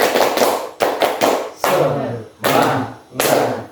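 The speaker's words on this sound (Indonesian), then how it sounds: "1, 2, 3 tepuk semangat." Students in a school group counseling session clap a rhythmic 'spirit clap' together. Loud, close bursts of group clapping come in a patterned sequence with short pauses between phrases, and voices may join in.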